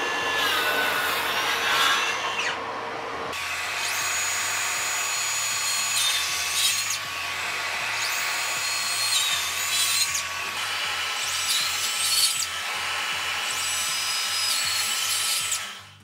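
A cordless brushless DENZEL circular saw, its base fully lowered for a 90-degree cut, whines loudly and continuously, with its pitch and load shifting in several stages as the blade works through the cut.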